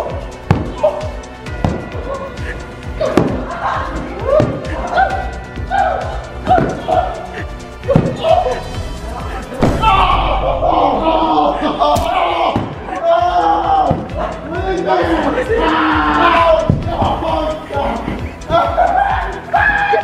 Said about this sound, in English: I also have a pillow right here, and I'm going to be getting a few good whacks in there.